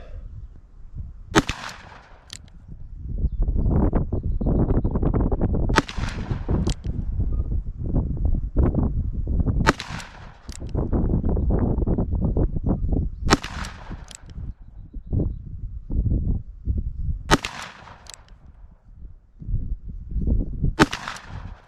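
A Colt Trooper MK III revolver fires single action at a 25-yard range. Six loud, sharp shots ring out at a slow, steady pace, each followed by a short decay.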